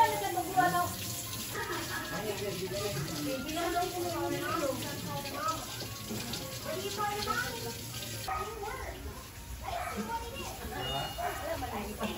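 Hot water runs steadily into a pot of pork ribs in a home kitchen, a continuous splashing pour under a voice talking throughout.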